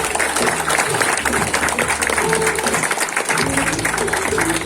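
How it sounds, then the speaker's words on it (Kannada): Loud, sustained clapping from a crowd at the grand opening ceremony of a pyramid meditation center, steady throughout with a faint voice under it. "ಜೋರಾಗಿ ಚಪ್ಪಾಳೆ"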